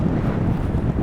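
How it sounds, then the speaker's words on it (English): Strong wind buffets the microphone in a continuous low roar near Cathedral Rock, South Africa, gusting steadily throughout with no other clear sounds. "Oh, windy out here. Very."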